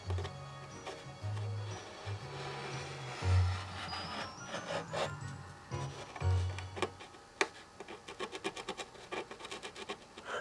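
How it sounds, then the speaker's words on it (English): Rhythmic back-and-forth rubbing of a doubled piece of sandpaper while fitting a canopy on a Windy U Master 825, soft scratchy strokes repeating steadily, then sharper ticks and taps toward the end, with no talking. "Let's try this as a start. Would be a double piece of sandpaper."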